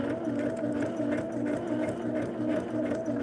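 Home sewing machine stitching a double wedding ring quilt, running over pins: a steady continuous motor hum with fast rhythmic needle chatter, close and unbroken.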